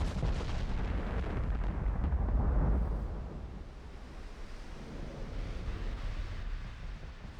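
Shells striking a warship in the naval battle game Ultimate Admiral: Dreadnoughts, heard as a heavy continuous rumble of booming impacts and explosions that swells, then eases into a lower roar with surf-like noise.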